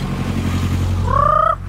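A steady engine rumble runs throughout, and near the end a chicken gives one clear, drawn-out call over it, in Bacolod, Philippines.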